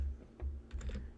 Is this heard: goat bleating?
no